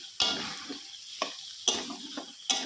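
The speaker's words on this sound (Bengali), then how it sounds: "মাংসটা মোটামুটি একটু ভালো করে এই মশলাগুলো দিয়েই একটু ভালো করে ভাজতে হবে" Meat frying with spices in a pot for biryani, a quiet low sizzle punctuated by four sharp scrapes and knocks of a spatula stirring against the metal, close and intermittent.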